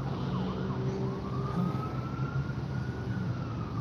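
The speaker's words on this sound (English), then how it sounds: "whatever that siren is going off for" An emergency siren wails at a distance, its long steady tone holding through the clip above faint outdoor street noise in Pigeon Forge, with no talking.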